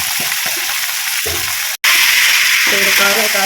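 Chicken sizzles and fries in a pan over a wood-fired stove, a steady loud crackling hiss broken by stirring sounds, with a voice talking over it.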